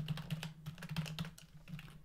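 Computer keyboard keys pressed in a quick, irregular run of close, crisp clicks, over a steady low hum and with no voices.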